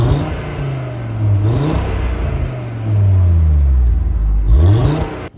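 A 2022 Audi RS 3 sedan's turbocharged inline five-cylinder engine revs loud and close, its tone sweeping up and falling back several times in rapid, throaty surges, with no voices.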